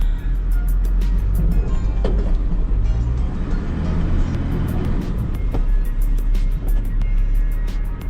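A TRE air-locker-equipped off-road vehicle struggling and getting stuck, its engine droning loud and steady up close with rising revs and rumbling strain, no voices.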